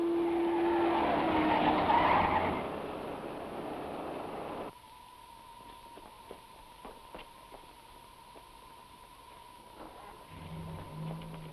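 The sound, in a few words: car driving off with skidding tires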